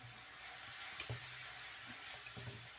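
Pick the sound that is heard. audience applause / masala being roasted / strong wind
masala being roasted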